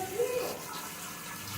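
Water from a motor-pumped village supply runs steadily with a continuous rushing hiss, as from a pipe or tap, close and unbroken, with a brief voice-like tone at the start.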